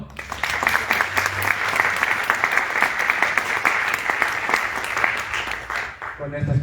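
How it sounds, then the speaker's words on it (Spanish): Sustained audience applause at a lecture on viceregal history thanking the speaker, dense even clapping lasting several seconds before fading, with a voice starting at the very end. "Un aplauso."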